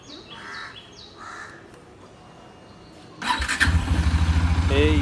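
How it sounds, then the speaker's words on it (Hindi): Crows caw at a distance before a Bajaj Dominar 400 motorcycle cranks with a loud, rapid pulsing starter sound, repeated up close without the engine catching. "चालू नहीं हो रही है बाइक।"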